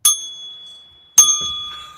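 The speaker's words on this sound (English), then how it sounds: "Before I go, I got to ring the bell." Hand-rung beer bell, two bright metallic dings about a second apart, each ringing out with a clear sustained tone, close and loud with no talk.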